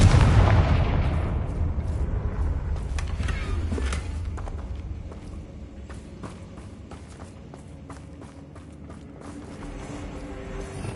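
A Confringo blast spell in Hogwarts Legacy erupts in a loud, booming explosion at the start, then fades into a long rumbling tail with scattered footsteps and small impacts.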